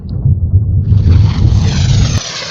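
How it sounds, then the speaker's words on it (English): A Phantom jet flying low over a fort and breaking the sound barrier: heavy low engine rumble builds and sweeps past, joined by a harsh high-pitched whoosh, loud and close, no voices. "Phantom flew low over the fort, breaking the sound barrier."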